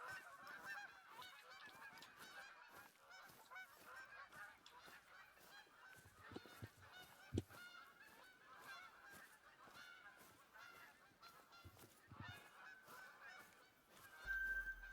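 Geese honk continuously in The Hunter: Call of the Wild, set in the Yukon, with a flock calling over and over at moderate distance and a soft game ambience beneath.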